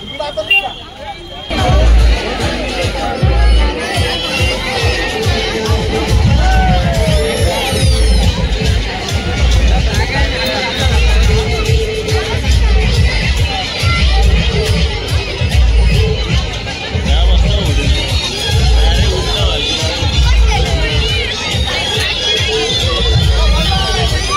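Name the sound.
crowd bustle at a village fair (jatra)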